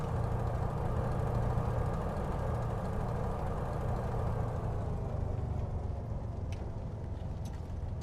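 The engine of a Hawker Nimrod biplane, over 500 horsepower, runs up to full power on a grass strip in Microsoft Flight Simulator 2024, a steady droning low roar that holds constant throughout.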